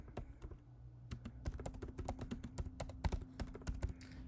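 Rapid, uneven keystrokes on a computer keyboard as a title is typed for a wiring-diagram task, close and clear with no talking.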